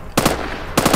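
Two sharp bursts of rapid Minecraft lucky-block gunfire, loud and near, with a brief gap between them and no voices.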